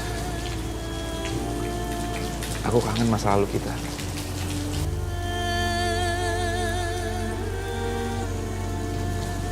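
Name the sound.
rain falling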